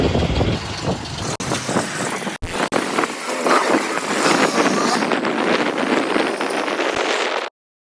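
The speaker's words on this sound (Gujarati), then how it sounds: "હાલો આપણે ટ્રેક્ટર કાઢી લઈએ" A tractor engine runs continuously on a farm, a loud rumbling drone heavily masked by wind buffeting the microphone, with brief dropouts before cutting off at the end.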